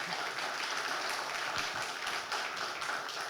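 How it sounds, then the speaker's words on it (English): Conference audience at an event with badminton player Saina Nehwal applauding, a steady, fairly faint wash of clapping through the whole stretch with a slight murmur beneath. "more applause."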